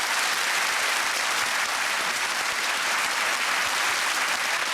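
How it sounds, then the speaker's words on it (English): Panel and studio audience on the QI quiz show applaud themselves, a loud, unbroken wash of many hands clapping at once, even and sustained throughout. "Right, applaud yourselves."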